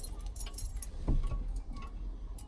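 Car keys for a 1974 Plymouth 360 Cuda jangle close by inside the car in a short burst of light metallic clinks, louder around the middle, with no talking.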